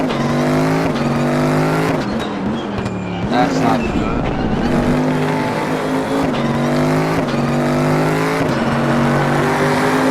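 A race car in RaceRoom Racing Experience drones at high revs, its engine tone rising and falling through gear changes with brief tire noise, loud and close, while a player talks over it.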